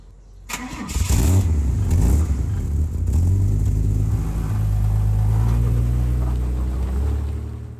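A Fiat 130 engine cranks and catches after a brief quiet start, then settles into a steady, smooth, muffled low rumble that holds for several seconds.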